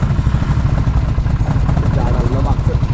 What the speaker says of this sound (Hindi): हिमालयन में जो एग्जॉस्ट है आपको लग रहा है स्टॉक है, पर ये स्टॉक नहीं है। बापू स्टार्ट करा,